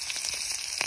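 Onion frying in hot oil in a wok (kerahi), a brief, steady sizzle with small crackling pops and no one talking.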